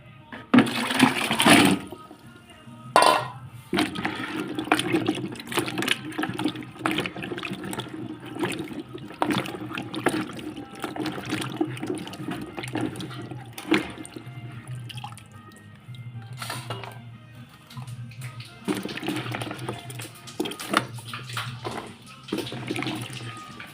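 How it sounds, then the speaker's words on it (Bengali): Cut pointed gourd and potato pieces being washed in water, with running tap water, drips and splashing that carry on steadily throughout, punctuated by brief louder clatters, close by. "এখানে আমি পটল আর আলু কেটে রেখে দিয়েছিলাম, এখন সেগুলো ধোয়ার পালা।"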